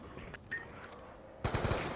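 Rapid burst of gunfire in Black Ops 2 Zombies, a quick run of shots heard near the end after quieter game ambience, fairly faint overall.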